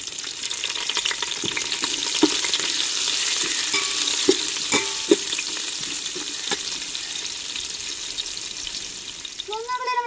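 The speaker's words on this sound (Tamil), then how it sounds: "வெட்டி வச்ச பெரிய வெங்காயத்தையும் சேர்த்துக்கிறோம் பச்சை மிளகா சேர்த்துக்கிறோம்" Chopped onions and green chillies sizzle in oil for a crab biryani, a constant close frying hiss broken by sharp clicks of stirring, and a brief voice-like sound near the end.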